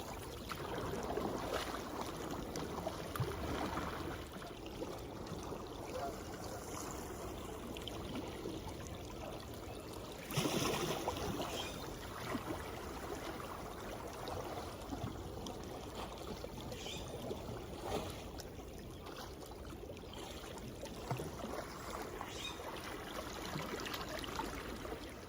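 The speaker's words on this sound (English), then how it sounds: "I love how it slides across the water, just simple draw strokes." A Melker Rodloga kayak is drawn sideways across the water with simple paddle strokes, giving soft trickling and sloshing water sounds close by, with a brief louder splash midway and no voices.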